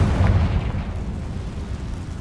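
A Confringo blasting spell explodes in Hogwarts Legacy, a loud, deep rumbling boom with a sharp onset that rolls and decays over a couple of seconds.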